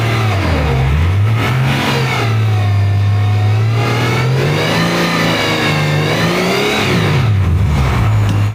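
A turbocharged car engine revs repeatedly, its pitch rising and falling in loud, close bursts with a throaty drone that sweeps up and down over several seconds.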